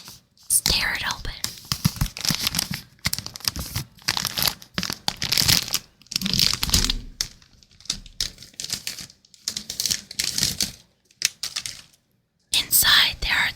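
A Pop Rocks candy package being torn open up close, crisp crinkling and ripping bursts of plastic in quick irregular clusters with brief quiet pauses between them, no talking.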